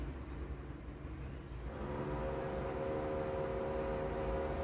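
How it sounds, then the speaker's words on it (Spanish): Trucks passing outside a building, heard from indoors as a low, faint broadband rumble that swells after a couple of seconds and holds steady, with no talking. "Disculpen el ruido exterior, pero están pasando camiones."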